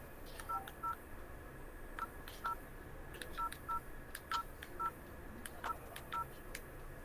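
Telephone keypad dialing tones beep in short bursts of two or three, spaced through the stretch, faint against a quiet hiss, with no one talking.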